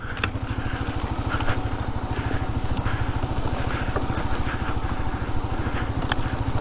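A Kawasaki KLR650 dual-sport motorcycle chugs steadily along tight off-road single track, its single-cylinder engine pulsing in a fast, even rhythm that stays close and loud from start to finish.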